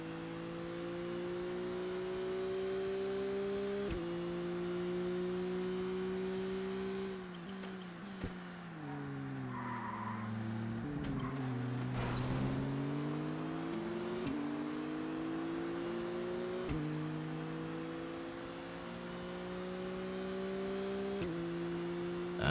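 Race car engine in ToCA Race Driver 2 on the Pacific American Tour, a steady droning whine that climbs through the gears, dips sharply as the car brakes into a corner, then revs back up, continuous throughout.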